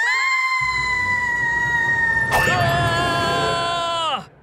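Kitty, a Hindi cartoon character, lets out a long, loud, sustained high-pitched scream that wavers and slides, broken midway by a sharp crash, then falls off abruptly at the end.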